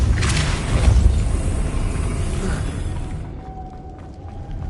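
A Depulso spell in Hogwarts Legacy lands as a deep, booming blast near the start, and its rumble slowly fades over several seconds into a quieter ambient tail.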